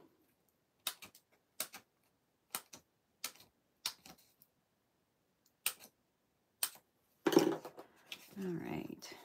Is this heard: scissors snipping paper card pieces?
yes